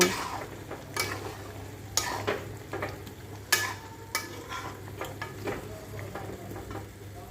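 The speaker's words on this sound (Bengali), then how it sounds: "এবার খুন্তি দিয়ে আবার একটু নেড়ে নেব" A spatula scrapes and stirs duck meat in a pan with a little hot water added, giving sharp, irregular scraping knocks over a soft, low sizzle at moderate volume, no speech.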